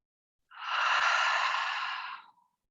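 A single long breath during a floor yoga exercise, drawn in for about two seconds, airy and close, rising quickly and fading out, with silence before and after.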